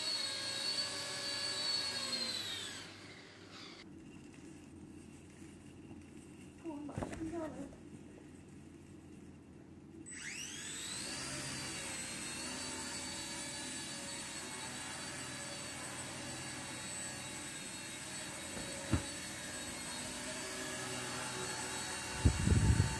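Home-built Black Hornet micro UAV drone flying, a steady high-pitched whining buzz that drops out briefly then returns and holds evenly, fairly close.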